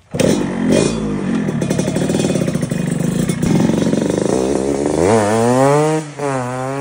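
A motorcycle engine revs hard and loud up close, its pitch rising and falling in repeated sweeps before the bike rides off, with no voices.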